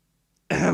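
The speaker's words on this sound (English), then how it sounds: "awkwardly clear my throat and walk towards him" A single short throat clearing, from the visual novel Steins;Gate, comes abruptly out of near silence, close and clear.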